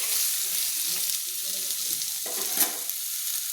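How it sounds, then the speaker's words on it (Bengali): Chopped radish stirred and sautéed in hot oil in a pan, with a steady close sizzle and soft scraping stirs throughout, no voices. "মূলাগুলোকে আমি একটু নেড়ে নিচ্ছি, হালকা করে তেলের মধ্যে কষিয়ে নিয়েছি।"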